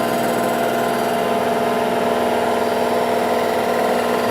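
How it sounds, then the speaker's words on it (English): A machine surface-cutting a cylinder head, giving a steady, loud mechanical hum with a constant tonal whine and dense grinding texture, unbroken throughout. "I'm going to cut to a video now just to show you what it looks like when you, normally when you surface cut a cylinder head"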